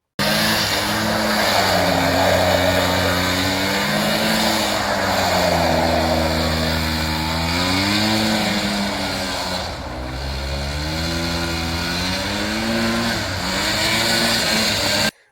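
CR500 two-stroke dirt bike ripping through fresh falling snow at night, engine revving up and down in repeated waves, loud and close with a brief dip near the middle, no voices.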